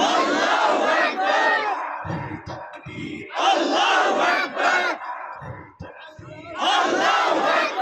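A large crowd at a religious gathering roars a Nara-e-Takbir chant in loud, surging waves. Three big swells of collective shouting rise and fall, with a solo voice calling between them.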